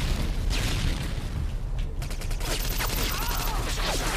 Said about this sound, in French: j'ai une petite mitraillette